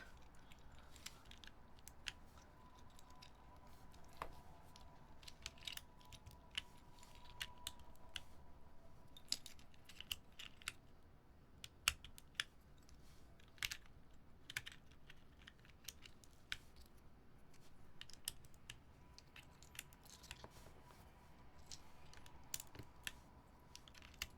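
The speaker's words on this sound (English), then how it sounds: "The little keyboard that could." Keys clack steadily on a small custom EC-dome mechanical keyboard with a soft, muted tone, a quick irregular typing rhythm, close and fairly quiet, and no talking.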